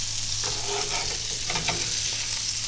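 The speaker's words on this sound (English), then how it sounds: "Let's flip this patty" A burger patty sizzles and fries loudly and steadily on a cooking surface as it is flipped, with a few scraping, stirring sounds over the constant hiss.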